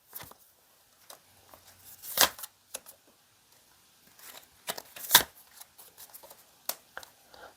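Tarot cards are shuffled and drawn by hand in quick papery riffles and slaps. Sharp snaps stand out twice among softer flicks and pauses, close and fairly quiet, with no talking.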